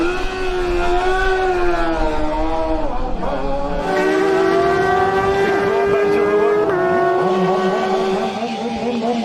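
A loud Triumph racing motorcycle engine roars past at high revs during the Manx Grand Prix Senior Race, its pitch climbing and dropping as it shifts gears, steady and close throughout.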